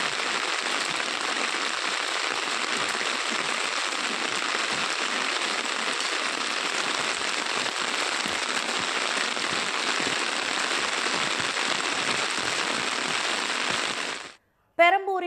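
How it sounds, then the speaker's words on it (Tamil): Heavy rain pours steadily in Chennai as a broad, constant hiss that stays loud and even for about fourteen seconds before cutting off abruptly. "கனமழை பெய்து வருகிறது."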